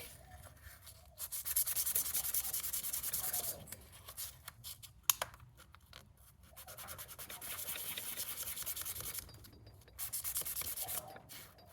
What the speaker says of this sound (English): And just a little sanding block